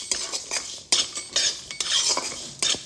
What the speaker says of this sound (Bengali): এবার একটা চামচের সাহায্যে আগে খুব ভালোভাবে মিশিয়ে নিচ্ছি